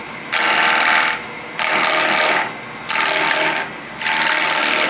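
A wood lathe turns a piece of wood being rounded for an offset pocket mirror, with four loud, even bursts of cutting whir, each about a second long, separated by brief lulls.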